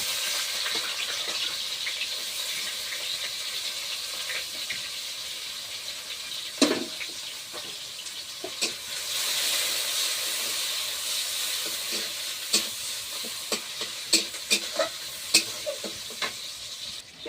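Onion paste hits hot oil in a wok for a village memorial feast, giving a steady broad sizzle and hiss throughout, with scattered sharp pops and spits rising toward the end and no talk.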